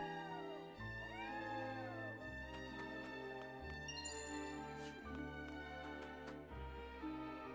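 A cat in the video game Triangle Strategy lets out a few meows over soft background music and chiming tones, faint and set back in the game's mix.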